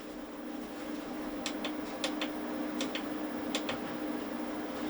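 A home solar power inverter gives off a steady low hum with a faint background hiss, joined by a few light ticking clicks, heard close and without talk.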